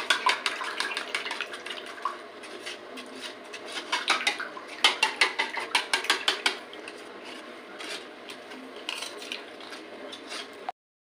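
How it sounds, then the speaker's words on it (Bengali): Sweet and sour yogurt being whisked together with a spoon in a bowl to raise a froth, giving rapid, close clinking and scraping strokes that come in steady bursts, louder in the middle, with no talking. "এই দুটো দই আমি একসাথে মিশিয়ে এইভাবে গুলে নেবো, যতটা পারবো ফেনা তুলবো।"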